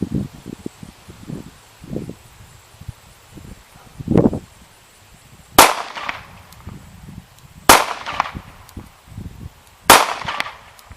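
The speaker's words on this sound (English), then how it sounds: "I'll do a little bit of shooting down here at the target" Gunshots fired at a target outdoors on a windy day: about three loud, sharp cracks roughly two seconds apart, with a softer pop just before them and low wind rumble in between.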